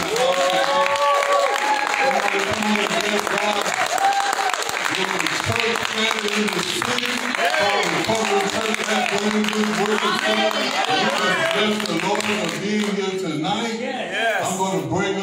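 Church congregation at Recovery Church in Norfolk, Virginia, applauding in a steady, dense wash of clapping and crowd noise that runs throughout, with voices and music-like tones mixed underneath.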